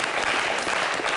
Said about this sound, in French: Ça s'applaudit très fort.